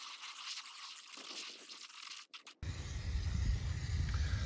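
Water running steadily into a container mixed with a spoonful of cleaning product for scrubbing a greenhouse, a soft hiss that begins after a short scraping sound and then keeps flowing.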